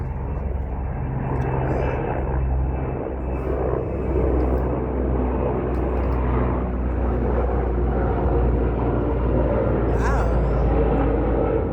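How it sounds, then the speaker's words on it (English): A continuous low rotor-and-engine drone of an aircraft overhead, steady and fairly loud throughout, with faint voices in the background. "I have never seen a helicopter like that."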